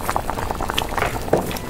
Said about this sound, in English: Looks like my water is boiling